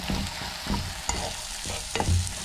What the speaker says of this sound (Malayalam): ഇനി ഇത് നന്നായിട്ടൊന്ന് മിക്സ് ചെയ്ത് കൊടുക്കുക.